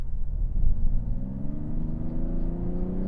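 A 2024 Mazda CX-90 Turbo S accelerates hard. Its engine note rises steadily in a smooth, rumbling drone heard from inside the cabin, with a shift partway through.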